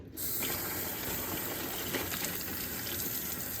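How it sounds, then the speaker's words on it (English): Plain water poured steadily onto a pour-over coffee filter to wet it, a continuous close trickling splash that begins after a brief silent moment and runs unbroken without talk. "next you're gonna get your filter wet with just some water, nothing fancy"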